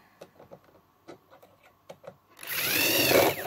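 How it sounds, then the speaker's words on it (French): A power screwdriver drives a screw through a small wooden batten into a wooden beehive super, preceded by light tapping and handling knocks, then a loud close whirring burst of about a second. "On peut mettre la petite latte en partie supérieure, de façon à bien aligner, et puis on visse."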